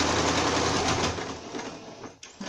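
Sewing machine stitching bias binding onto a small fabric bag, a steady loud mechanical whir that runs continuously, then slows and stops near the end.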